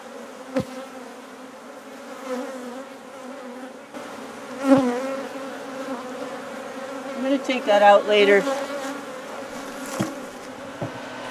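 A steady swarm of honeybees buzzes close by throughout during a comb cut-out, with a person speaking briefly over the droning hum.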